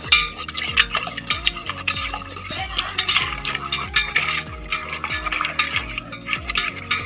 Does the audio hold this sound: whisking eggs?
yes